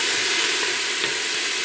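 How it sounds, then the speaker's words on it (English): Onion and other vegetables sizzle loudly in a pan on an electric stove, a constant hissing crackle with faint stirring clicks and no voices. "I already have to turn it down because it's sizzling a little bit too much"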